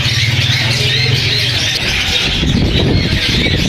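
Ringneck parrots at a Sunday bird market in Bahawalpur, with dense chattering and chirping from many birds close by, mixed with the low hum of the crowded market.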